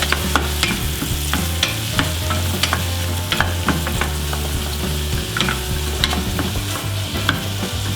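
Spoon stirring pasta salad ingredients with chopped pepper in a hot pan, steady scraping strokes over a continuous sizzle of frying, with sharp clicks of the utensil against the pan, close and alone.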